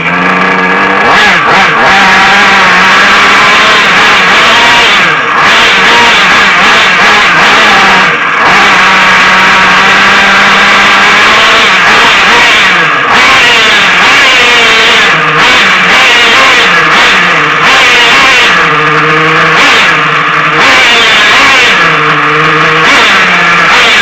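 A Flying Point Probe VXI nitro engine, run while being tuned and low on fuel, screams loudly and steadily for the whole stretch, with its pitch wavering through revs and several brief dips and cuts, and no voices.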